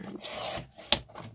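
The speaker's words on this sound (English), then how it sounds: "So we'll just take these to the trimmer" A paper trimmer cutting excess from journal pages: a short dry rasping slide of the blade ending in a crisp snap, close and quiet.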